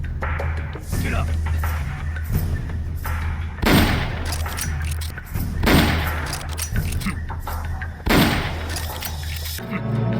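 Repeated pistol shots in the video game Metal Gear Solid Peace Walker, several sharp bursts spread across the stretch over a steady low in-game background hum, with occasional speech in the mix.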